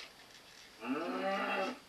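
A cow in the Minecraft video game gives one short, low moo that lasts under a second, fairly close and alone over a quiet background.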